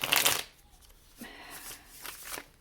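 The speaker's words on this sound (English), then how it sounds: "I'm going to go ahead and shuffle this up real quick" Tarot cards are shuffled in several quick riffling bursts, close and crisp, with short pauses between them.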